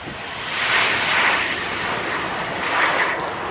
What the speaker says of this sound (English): The plane coming in.